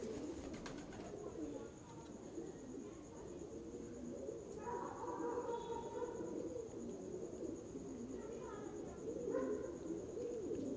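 Pigeons cooing at a fancier's loft in Wapda Town, with soft, low coos repeating faintly under a constant background hum and a few brief higher calls.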